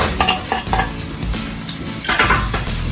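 Onions frying and caramelizing in warm oil for a Hungarian recipe, a steady sizzle with several sharp stirring scrapes near the start and a brighter burst of frying later, close and fairly loud with no talking.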